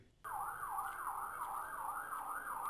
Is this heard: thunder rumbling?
no